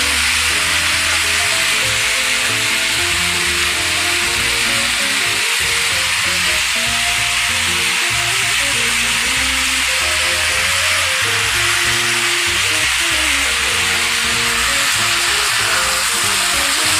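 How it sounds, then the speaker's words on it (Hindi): Chopped vegetables and softened tomatoes fry in a pan with little oil for an aloo kaddu kala chana sabzi, a loud, unbroken hissing sizzle heard close for a long stretch, with occasional stirring. "इसको 1 मिनट के लिए हम ऐसे ही भूनेंगे सब्जी और टमाटर।"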